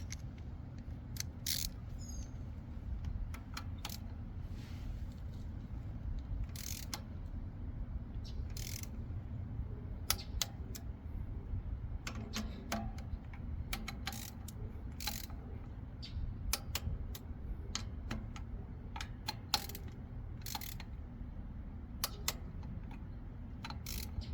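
A torque wrench tightening spark plugs on a Polaris Slingshot gives faint, scattered ratchet clicks, some in quick bursts, over a low steady background hum with no talk.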